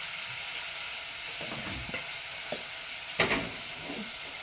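Rice being stirred into a hot pan while making biryani, with a steady low sizzle under scattered scraping knocks of the spoon and one louder clatter near the end; no one speaks.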